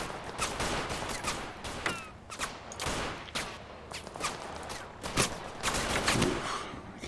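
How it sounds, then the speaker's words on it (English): Rapid bursts of gunfire fill a firefight in the video game Total Conflict: Resistance, with dense overlapping volleys and sharp shots cracking steadily throughout, loud and continuous. "The others, we're now firing at them as well."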